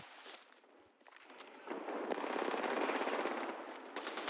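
Video game gunfire crackles in rapid automatic bursts, dense and continuous through the clip, a steady stream of close, loud shots with no voice over it.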